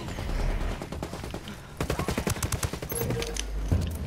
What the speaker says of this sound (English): What the hell are you shooting? The M4?